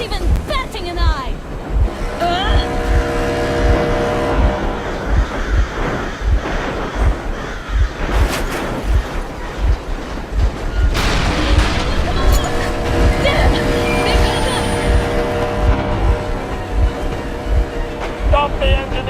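A boat engine runs in the video game Metro Exodus, a loud, continuous low rumble with regular throbbing pulses, mixed with washing water and wind noise throughout.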